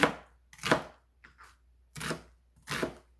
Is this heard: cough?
no